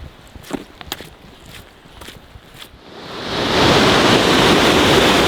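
An Icelandic waterfall near the tectonic plate rift comes in as a broad rushing roar, swelling from faint to loud and steady after footsteps and wind buffeting.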